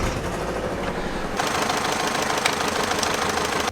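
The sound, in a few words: car engine noise from a leaking exhaust manifold gasket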